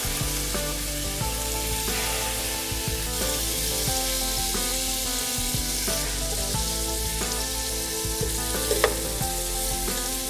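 Skewers cook gently in butter in a pan, a low continuous sizzle running under steady background music with a sustained melodic pattern.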